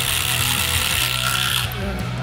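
A cordless power tool drives lag fasteners, giving a loud, close mechanical ratcheting whir that holds steady for about two seconds before the pitch shifts as it finishes.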